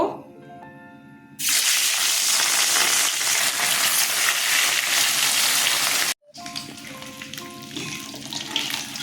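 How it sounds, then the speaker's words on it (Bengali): Pieces of katla fish dropped into hot oil set off a loud, steady sizzle that bursts in abruptly and carries on, briefly breaking off near the end before a gentler crackle resumes, with no talking. "এখন তেল গরম হয়ে গেছে মাছগুলো ছেড়ে দেব"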